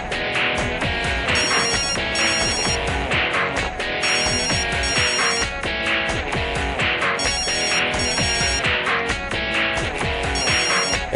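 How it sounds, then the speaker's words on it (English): A telephone rings loudly and without pause, a dense, repeating electronic ringtone that cycles about every two seconds, with no talking over it. "It's still ringing."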